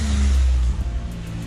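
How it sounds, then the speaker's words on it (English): A vehicle pulls up close by, engine droning loudly at first, then easing off and settling to a lower hum as it slows to a stop. "We got David pulling up right now."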